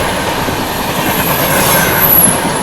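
The Golden Temple Mail express rushes past on the next track, a loud, continuous rail roar and rattle with a thin high wheel squeal, heard up close from a moving train.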